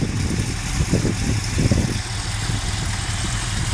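An all-original Jensen Interceptor with its 7.2 litre engine idles with a steady, smooth low rumble. The engine is close and holds an even pulse throughout, with no talking.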